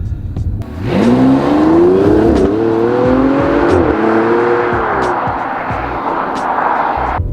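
Bentley Bentayga SUV with a 6.0-litre W12 engine accelerating hard, a loud, smooth engine note rising steadily in pitch through a gear change and settling into a sustained roar, heard from close by.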